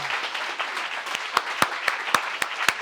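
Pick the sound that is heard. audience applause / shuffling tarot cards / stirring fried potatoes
audience applause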